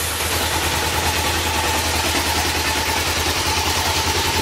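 A cold Kawasaki Ninja 500 motorcycle engine running, a close, loud and steady rhythmic idle with a fast, even pulsing throughout.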